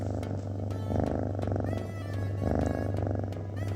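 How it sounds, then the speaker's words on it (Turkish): Close, steady purring from a cat, a low rumbling drone rising and falling in rhythm with its breathing, alone without voices. "Kedi mırıltısı beyine çok faydalıymış arkadaşlar."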